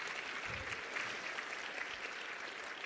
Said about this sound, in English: A big clap for Jordan's presentation